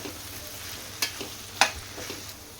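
Okra pieces fry with onions in a pan: a steady moderate sizzle punctuated by two sharp spatula knocks and light scraping, with no talking.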